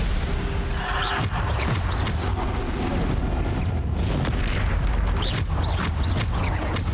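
Bombarda spell explosions in the video game Hogwarts Legacy, heavy booming blasts and crashing debris over continuous dense game noise, with several impacts spread across the clip.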